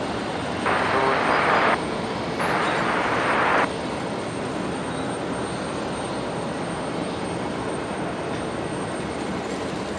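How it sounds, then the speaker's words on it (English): A Qantas Boeing 737 touches down at night at Brisbane Airport, a broad continuous roar of engines and rushing air holding steady and fairly distant throughout, with two brief bands of brighter hiss early on. "Qantas 196 just touching down here, the 73 coming in from Wellington."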